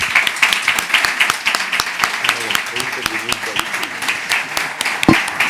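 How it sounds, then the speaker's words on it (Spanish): Sparse, uneven clapping from a small audience applauding the speakers at a Catholic public-life evangelization event; distinct individual claps rather than a dense roar, with talking voices underneath. "Les pido un gran aplauso para nuestros intervinientes."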